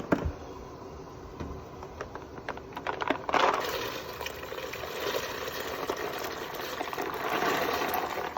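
Beans being washed under running water in a kitchen, a steady rushing and splashing stream with scattered clinks and knocks, moderately close and without voices.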